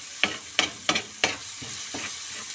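Tomatoes frying in a small amount of cooking oil in a pan, a steady sizzle broken by four or five sharp scraping stirs of the utensil, close and fairly loud with no talking.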